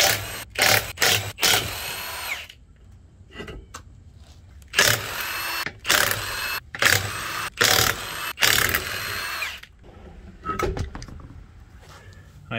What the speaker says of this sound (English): So we'll go ahead and pull these wheels off.